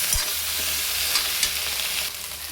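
Sliced okra stir-fries in an oiled pan for a vendakkai fry, a steady close sizzle broken by a few soft scrapes and knocks of the spatula against the pan.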